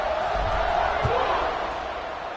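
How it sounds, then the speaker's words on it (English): Football stadium crowd at a Memphis vs Troy college game, a broad steady roar of fans hyped after a scoring drive, sustained and fairly loud throughout with a couple of brief thumps. "this crowd is feeling themselves after that last drive"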